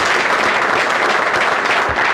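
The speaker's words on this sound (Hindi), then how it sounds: "एक बार सर के लिए अगेन फिर से दोबारा ताली बजा दीजिए।" An indoor audience bursts into sustained applause, dense and loud clapping from many hands filling the whole moment without a break.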